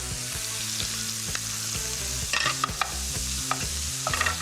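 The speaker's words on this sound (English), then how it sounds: "Now that bacon's getting really nice and crispy" Bacon and chopped shallots fry in a pan, giving a steady close sizzle with scraping stirs and a few sharp clatters of a utensil toward the end, with no speech.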